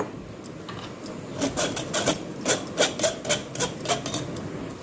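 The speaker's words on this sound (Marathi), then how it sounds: "आता ह्यात आपण हे पीठ चाळून घ्यायची आहे" Amaranth and water chestnut flours are shaken through a sieve into a whipped batter for fasting biscuits, producing a steady run of soft rhythmic rasping taps, close-up and continuous, with no voices.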